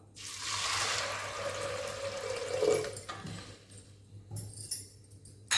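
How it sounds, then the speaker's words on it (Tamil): Water pours steadily into a pressure cooker holding chickpeas, a rushing splash that swells and then thins out, a low hum running underneath, closing with a few clinks. "இது முழுகிற அளவுக்கு நம்ம தண்ணி ஊற்றிக்கலாம்"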